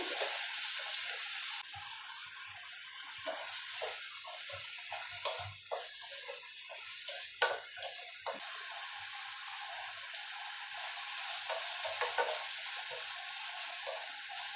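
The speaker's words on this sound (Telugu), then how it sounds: "ఇందులోనే టమాటా ముక్కలు కూడా వేసుకొని బాగా ఫ్రై అవ్వాలి" Tomato pieces fry with mutton in a drumstick curry, giving off a steady, close sizzling hiss that dips briefly midway, with a few soft knocks from stirring.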